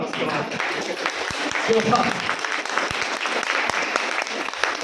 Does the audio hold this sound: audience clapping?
yes